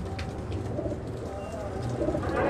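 A Rampuri pigeon pair, male and female, coos steadily in a low, soft rumble throughout, with faint background noise and no clear speech.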